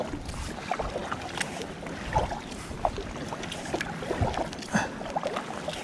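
A fishing kayak moves across the water to a new spot on a sea bass outing, with soft paddle splashes and water lapping under light wind noise.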